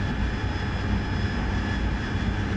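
A jet aircraft engine roars steadily in DCS World during a combat mission, a constant loud broadband rush with a faint high whine and no pauses.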